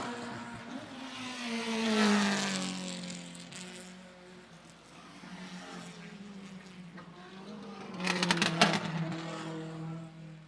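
Historic race cars at Lime Rock Park roar past with a rising and falling engine drone, swelling near the start and a sharper, louder burst as cars cross close by near the end.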